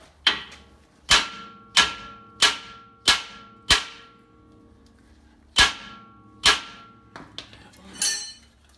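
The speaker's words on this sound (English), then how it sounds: "Okay, we're gonna break this bottom one loose." Sharp metal hammer blows on a car's lower suspension ball joint during an air ride conversion on a G-body, about nine loud ringing strikes in an uneven rhythm with pauses, followed by faint clinks of metal.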